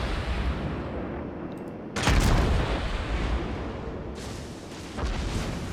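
Heavy naval gunfire from a cruiser in World of Warships, with loud booming salvos and a rumbling roar: one big blast near the middle and another later, over a continuous battle din.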